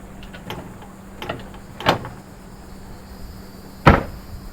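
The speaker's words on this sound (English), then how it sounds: "All of the doors are automotive type doors, so they slam with a nice solid thud." Automotive-type doors on a 2020 Tiffin Allegro Red 37PA motorhome slam shut with solid thuds, about four in all, two of them noticeably heavier, heard close by with quiet gaps between.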